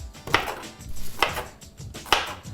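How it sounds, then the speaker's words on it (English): A knife chops garlic on a cutting board in three distinct sharp taps about a second apart, close and clear with soft scraping between strikes. "Have a look at the sizes of the bits of garlic that I'm chopping."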